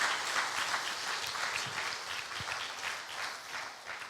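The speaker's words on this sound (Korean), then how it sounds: "자, 여러분 권사님들 한번 위해서 박수를 한번 쳐드리세요" A church congregation applauds during a Sunday service, continuous, even clapping from a sizable group, somewhat distant and moderately quiet throughout.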